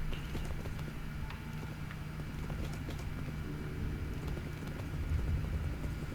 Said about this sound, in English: Let us go, horse!